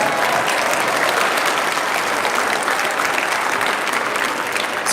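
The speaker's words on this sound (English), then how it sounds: "Can we give the Mariachi Club a very big round of applause, please?" Sustained audience applause for a mariachi club at a school district arts showcase, a dense, steady wash of clapping at full strength throughout, with scattered crowd noise mixed in.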